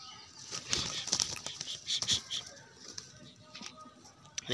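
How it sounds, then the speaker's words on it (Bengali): Bursts of a wild pigeon's wings flapping close by, a few quick flurries of fluttering with soft rustling between them. "ওর ওর ওর নতুন পায়রা এসেছে।"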